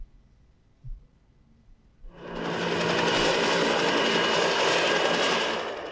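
A rescue helicopter flying over a disaster zone comes in after a quiet start, building quickly into a loud, steady, broad roar and whir that holds to the end with only a slight easing. No voices.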